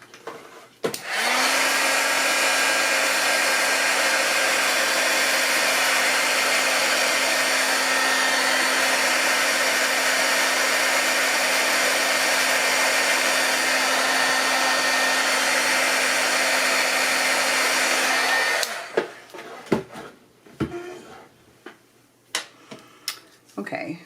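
A hair dryer blows steadily on watercolor pencil artwork, a loud continuous whooshing hum with a fixed motor tone that starts abruptly, runs for about eighteen seconds and cuts off, followed by quiet handling clicks.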